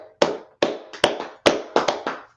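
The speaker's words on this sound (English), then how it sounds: "Let's clap it up for her" A small audience claps sparsely for a woman at a gathering, about eight distinct, separate hand claps in an uneven rhythm, close and crisp, with short silences between them.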